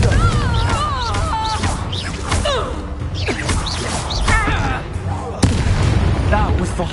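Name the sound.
Confringo blasting spell explosion, Harry Potter video game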